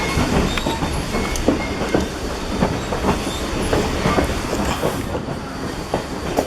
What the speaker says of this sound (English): Oh yeah, he slowed the train down.